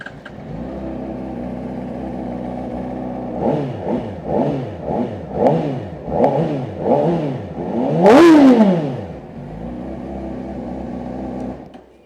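A 2024 Honda CBR600RR sport motorcycle engine cranks to life, then a series of quick throttle blips rise and fall, ending in one long, high rev before settling back to idle.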